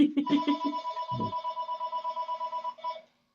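An electronic telephone ring pulses rapidly and steadily for about three seconds before cutting off, loud and close, with a brief thud early on.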